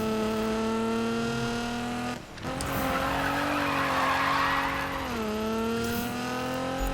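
A 2017 Nissan GT-R drifting in Need for Speed 2015, with a steady high engine drone and loud continuous tire squeal, a brief dip in pitch midway before the car pulls again.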